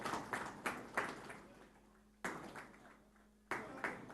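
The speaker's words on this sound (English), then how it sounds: "I guess this applause needs to be more louder." Scattered applause and claps from an audience at an airport cold chain centre launch event, coming in short bursts that fade between, with a low hum underneath and no talk.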